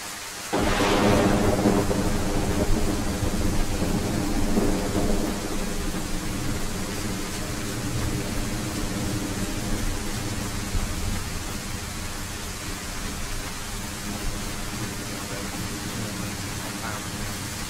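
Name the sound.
rain and thunder in a video game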